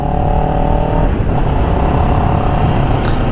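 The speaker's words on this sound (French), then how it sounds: "quand on s'approche des 6000 tours minute, le moteur a tendance à devenir un petit peu plus rageur" Motorcycle engine held at high revs near 6000 rpm, a loud continuous harsh drone with steady tone, close and alone with no talk.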